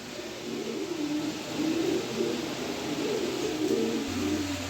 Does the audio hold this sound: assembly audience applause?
no